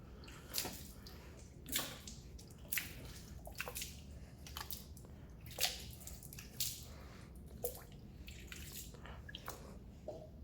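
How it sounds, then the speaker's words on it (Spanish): Water is splashed onto a car tire in a series of separate wet splashes and drips, about a dozen bursts spread irregularly over several seconds, close and fairly quiet, with no talk. "procedo a aventarle agua a la llanta."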